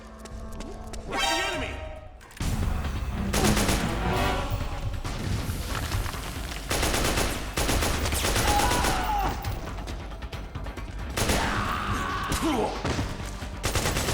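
Rifle fire in the stealth-action game Metal Gear Solid 4, loud bursts of gunfire and fusillades over a busy battle soundscape with crashes and movement, dense and continuous after a quieter opening.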